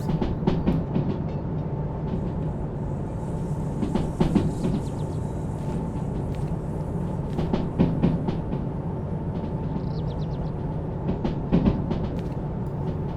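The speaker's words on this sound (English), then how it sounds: "I like very much very long trains, especially when I can observe them snaking around on the turns" A very long freight train rolls along the rails in the Derail Valley train simulator, a steady low rumble with repeated clickety-clack wheel beats and squeals over the whole stretch.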